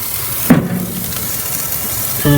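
A partly frozen steak sizzling on a charcoal barbecue grill, a sharp burst of frying as the meat hits the grate, then a steady low hiss and crackle that swells again near the end.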